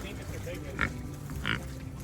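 Mini pig grunting in an outdoor pen, two short close grunts standing out over a steady background hum, with a person talking around them.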